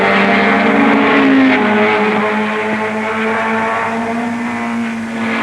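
1960s racing cars lap a circuit through Ramp Bend toward South Tower Corner, a loud, close engine note with a rising and falling whine as a car passes and changes pitch.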